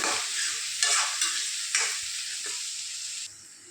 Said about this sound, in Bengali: এটা ভালো করে ভাজা করে নেবো।